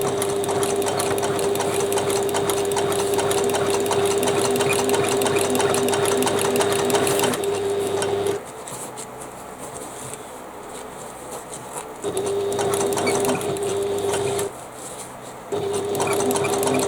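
A sewing machine stitches closed one end of a fabric bag, running in steady loud bursts that stop briefly around the middle and near the end before resuming.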